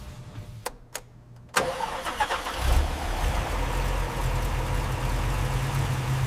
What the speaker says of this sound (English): The engine comes alive.